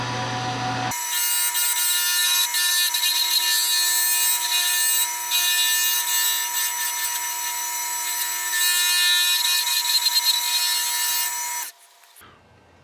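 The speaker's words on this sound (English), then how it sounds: "so I'm going to switch over to my scraper, which I think will be a little gentler on it" Scraper cutting a Hawaiian curly koa hybrid pen blank spinning on a lathe, a continuous bright, hissing scrape that holds steady for about eleven seconds, then stops abruptly as the tool lifts away.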